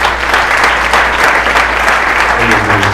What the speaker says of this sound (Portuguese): Vamos aplaudir o Senhor por essa palavra.